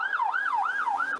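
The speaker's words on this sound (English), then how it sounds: "There was a police car, and the sirens going off everywhere." Police car siren wailing on a London street at night, a loud, close, continuous rising-and-falling tone cycling about three times with no other sounds.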